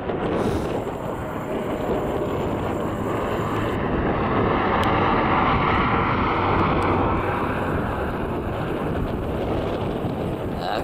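A second airplane dropping parachutists over an airfield drones steadily overhead, its engine a continuous broad rumble mixed with wind buffeting the microphone throughout.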